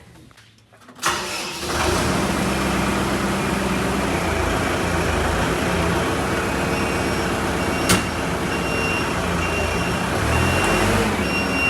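Manitou telehandler on a building site, a steady engine rumble starting abruptly and running throughout, with a faint tonal beep pattern above and one sharp click near the end; no one speaks.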